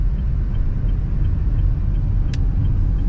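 Car climbing a steep hill in second gear, a loud steady engine rumble and road drone heard from inside, with a brief sharp click partway through.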